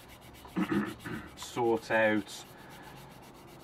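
Medium-grit sanding stick rubbing a seam on a 1/48 scale plastic Junkers Ju 88 A-4 model kit: several short, close, raspy scrubbing strokes in quick bursts, with a voice speaking briefly at the start.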